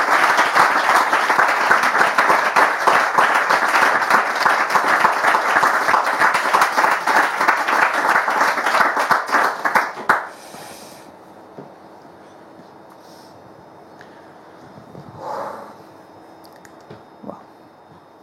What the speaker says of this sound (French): Je veux quand même qu'on l'applaudisse